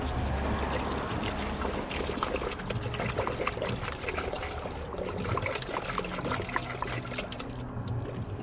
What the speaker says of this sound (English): So now we're gonna pour coolant.